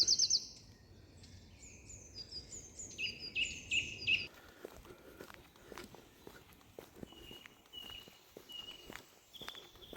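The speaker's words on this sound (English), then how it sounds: "And again, just the sound of the" Birds call and chirp in woodland near Haigh Hall in Wigan, brief bright notes scattered over the clip, louder early on and then fainter, with footsteps crunching steadily along a path underneath.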